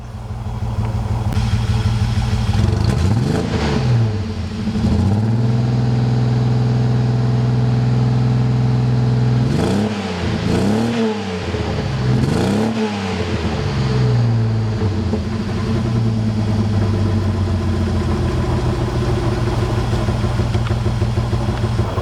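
A Holden HZ car engine idles at full operating temperature with a coolant leak, a steady loud exhaust drone broken by several blips of revving that rise and fall.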